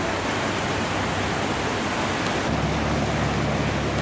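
Pacific Ocean surf breaking near a boat wreck on an Australian coast, a steady broadband wash of waves with a low rumble that thickens partway through, continuous and fairly loud, no voices.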